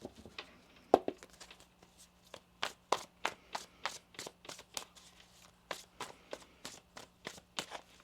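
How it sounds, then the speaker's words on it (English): Tarot cards being shuffled during a Virgo reading, a run of crisp, quick riffling bursts that repeat steadily and close up, with a faint steady hum underneath and no talking. "One more shuffle here."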